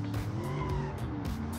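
A car in BeamNG.Drive brakes hard without ABS, its tires squealing and skidding in a steady, loud screech with the engine droning underneath for a brief moment.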